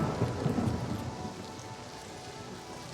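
Steady in-game rain in Oblivion Remastered, a dense hiss of drops with a low rumbling undertone like distant thunder, constant and even throughout with no voices.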